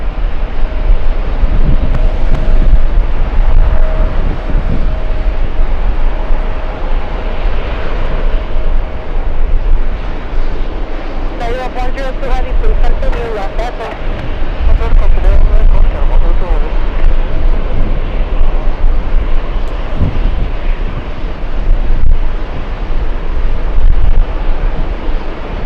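An Etihad jet airliner turns left at JFK Airport, heard as a steady, broad engine roar mixed with heavy wind buffeting on the microphone, while a voice talks over it.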